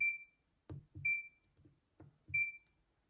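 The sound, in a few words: exercise bike console beep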